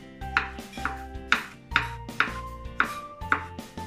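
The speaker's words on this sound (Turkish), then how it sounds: "Bunu da çok küçük doğramayın" Fruit, including banana, chopped with a knife into fairly large pieces for a fruit parfait, giving eight steady, evenly spaced close-up knife strikes on a board with no talking.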